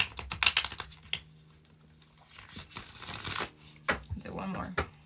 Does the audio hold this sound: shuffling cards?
yes